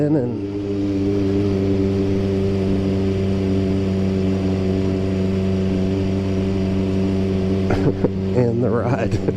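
A 1975 Honda CB750 motorcycle engine pulls in and holds a steady, close, rumbling idle, followed by a few brief bursts near the end that may be a voice.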